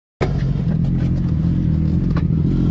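A motorcycle engine with a stuck throttle roars at sustained high revs, loud and close, starting abruptly and holding a steady, clattering drone with no letup.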